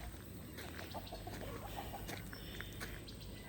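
Backyard hens and chicks, including an Americana chick, cluck and peep softly in the shaded yard, scattered short calls over a steady outdoor hum.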